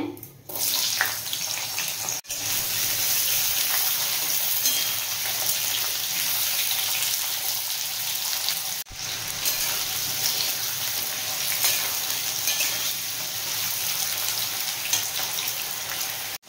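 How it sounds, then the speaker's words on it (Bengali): Potatoes frying in hot oil with cumin seeds and dried red chillies, a loud steady hiss that runs unbroken through the whole stretch with no speech. "এবার আমি আলুটা ভেজে নেব"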